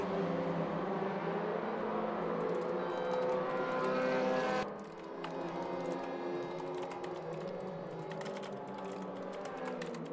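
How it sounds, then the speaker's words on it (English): Computer keyboard typing clicks out in quick, irregular bursts, faint under the steady drone of racing cars in a RaceRoom WTCR race at the Norisring. "I'm typing because I don't even know what to do"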